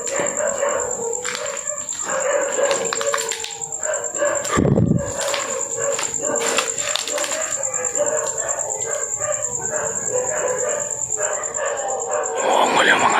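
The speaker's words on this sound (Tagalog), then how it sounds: "Umuungol yung mga aso mga idol na." Dogs howl and whine near an abandoned hospital at night, long wavering cries overlapping one another, with a sharp bark or knock partway through and people talking in the background.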